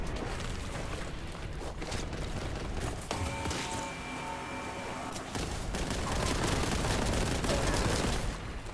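Grenade blasts and gunfire from the video game Warhammer 40,000: Boltgun, a dense continuous barrage of rapid shots and booms under a steady tonal game sound, growing louder toward the end.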